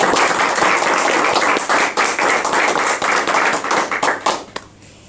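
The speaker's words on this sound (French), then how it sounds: "Bon, vous pouvez l'applaudir." At a medal ceremony honoring long public-service careers, the audience gives a recipient a hearty round of close, loud, dense clapping that holds for several seconds before breaking into a few last claps and stopping.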